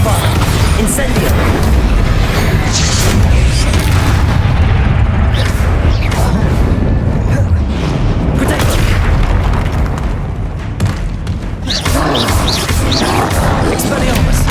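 Spell explosions in Hogwarts Legacy boom and burst in a dense, loud barrage of blasts, pops and rumbling impacts that keep piling up with barely a pause, with only faint voices beneath.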